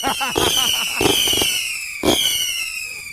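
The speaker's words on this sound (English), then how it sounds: "I think he's just gonna kick the fireworks down the hill" Fireworks crackle and pop nearby amid a bright whistling tone, with voices shouting and exclaiming over the bursts.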